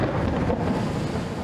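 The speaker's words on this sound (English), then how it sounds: "There is a massive storm brewing." Thunder from a massive storm over the opal-mining town of Coober Pedy rolls as a deep, continuous rumble, with rain noise and light wind buffeting the microphone, and no one speaks.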